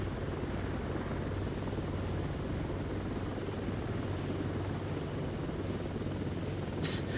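An AH-64 Apache helicopter's rotor and engine drone continuously and loudly in Microsoft Flight Simulator 2024, a steady thrumming hover with no voices.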